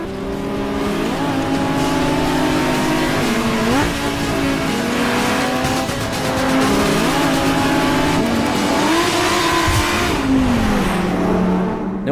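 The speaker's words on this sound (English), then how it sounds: "So let's talk about my favourite car," A supercar engine revs hard, climbing through gears with repeated rising pitch sweeps and shifts, loud and continuous, with a race-car character.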